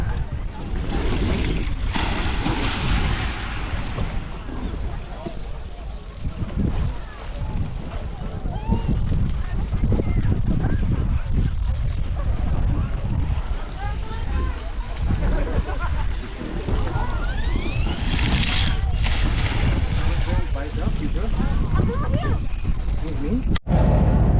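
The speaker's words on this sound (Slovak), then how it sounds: "Táto loď už odchádza" A boat pulling away from a palm-lined island bay off Phu Quoc, Vietnam, heard as a steady engine rumble and wash of water under strong wind buffeting the microphone, continuous and loud throughout.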